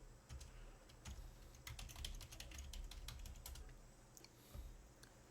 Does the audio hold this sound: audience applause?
no